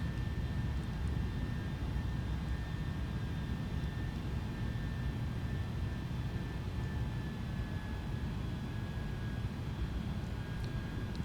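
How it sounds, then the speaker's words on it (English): A simulated Airbus A310 in Microsoft Flight Simulator 2020 on approach with landing gear and flaps lowering, heard as a steady, continuous cockpit engine and airflow roar with faint tonal whines, no speech. "lower the gears and extend full flaps and slats for landing"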